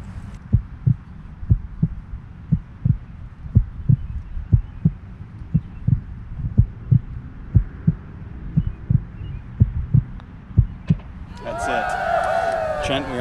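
A steady, thumping heartbeat sound effect pulses at an even rhythm, loud and low, continuing for many beats before a brighter burst of other sound enters near the end.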